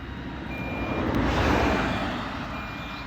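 A lost drone's beeping sounds faintly amid heavy road traffic, a thin steady tone drifting in and out under a dense rumble of passing vehicles.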